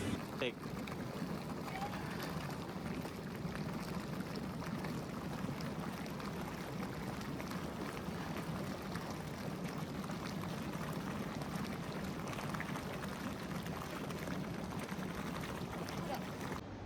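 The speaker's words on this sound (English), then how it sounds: "So here he is putting some bubbles in our jacuzzi." A hotel-room jacuzzi bubbling with water, a steady close churning wash of bubbles and splashing that runs unbroken throughout, with faint voices mixed underneath.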